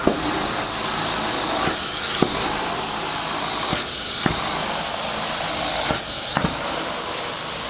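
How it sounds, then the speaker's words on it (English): An Amtex Prowler 2533 LP carpet extractor drones close by with a loud, steady hiss of hot steam and suction, broken by several sharp clicks and brief surges as the machine works. "You should hear a burst of steam coming in."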